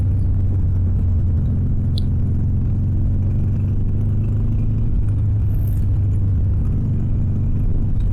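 Harley-Davidson Sportster Iron 883 motorcycle cruising in third gear through traffic, a steady deep low rumble with constant wind noise throughout, no talk.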